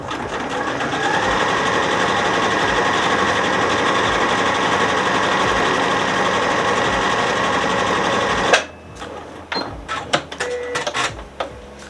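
A sewing machine stitches a quarter-inch seam on a cushion cover with a loud, rapid, steady mechanical whir for about eight seconds, then stops, followed by a few faint clicks and handling sounds.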